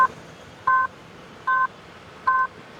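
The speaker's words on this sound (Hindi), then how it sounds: "जब इंडिकेटर चालू होता है तो प्रॉपर आपको नॉइस सुनाई दे रही होगी" An Ather Rizta electric scooter's turn indicator beeps in a steady rhythm, four short electronic tones evenly spaced over a faint background hum.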